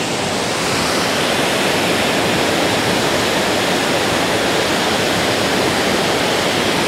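Todtnau waterfall in southern Germany pours in a dense, unbroken roar, loud and close, with no voices over the constant rush of falling water.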